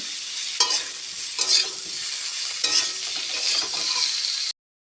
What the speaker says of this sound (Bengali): জিরে বাটাটা দিয়ে দিচ্ছি। কিছুটা কষিয়ে জল ঢেলে দেব।